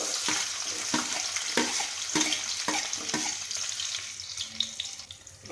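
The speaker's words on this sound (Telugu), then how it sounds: "నెయ్యి అంతా కరిగి వేడెక్కిన తర్వాత ఇలా చీరికల్లా కట్ చేసుకున్న ఉల్లిపాయ ముక్కలు వేసుకోవాలి." Sliced onions dropped into hot melted ghee for bagara rice, a continuous sizzle broken by repeated stirring scrapes and clatter, close and fairly loud.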